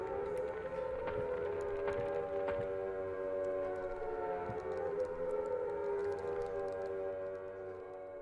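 A civil-defense siren from the video game Silent Hill wails steadily for several seconds, its pitch slowly rising and falling, with faint scattered clicks over it.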